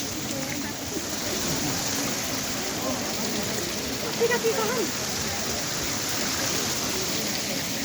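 Water pours from the 108 spouts at Muktinath temple in a steady, dense rushing splash, continuous and fairly loud, with faint voices under it.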